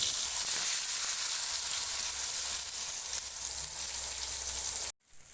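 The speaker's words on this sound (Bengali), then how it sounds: "এবার নুন আর হলুদ মাখানো বেগুনটা আমি ভেজে নেব।" Eggplant coated in salt and turmeric frying in hot oil in a kadai, a loud, dense, continuous sizzle that cuts off abruptly near the end.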